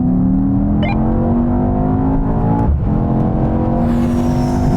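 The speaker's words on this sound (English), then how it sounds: "Now we're going to have another rolling race from 50 miles an hour, but this time with the cars in their sportier settings" A BMW M5 CS, AMG E63 S, Audi RS6 and Porsche Panamera Turbo S accelerate hard in a rolling drag race locked in third gear, loud engines droning and rising steadily in pitch, with a brief whoosh of wind mid-run.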